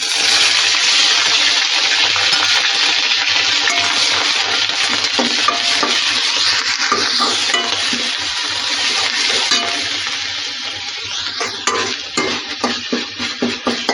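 Ginger, garlic and onion paste frying in ghee, a loud steady hiss of sizzling that eases and turns into stirring scrapes toward the end, with no one speaking.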